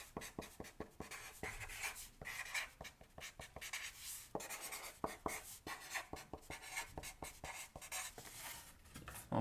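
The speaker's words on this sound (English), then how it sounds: "So I'll write this down." A pen scratches across a sheet of paper in quick, irregular strokes and taps, close and fairly quiet, with no voices.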